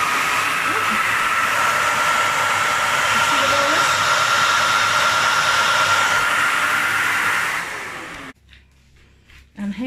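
Karcher FC5 hard floor cleaner running with a loud, steady whooshing hum and a thin tonal whine, close by, then winding down and switching off near the end.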